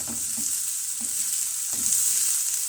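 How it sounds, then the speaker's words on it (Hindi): Chopped onions sautéing in a pan for chicken samosa filling, a soft steady sizzle with several light scraping stirs of a spoon at a gentle, uneven rhythm. "बहुत ज़्यादा प्याज को नहीं पकाना,"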